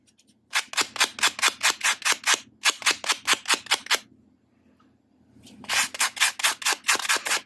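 Rapid rhythmic rubbing of wire being buffed, close and fairly loud, in three bursts of quick repeated strokes with short pauses between.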